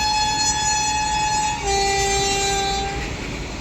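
The Hazur Sahib Nanded–Firozpur Cantt Express passing, its horn blowing a long sustained tone that shifts pitch partway through as it goes by, over steady rumbling rail noise, loud and close.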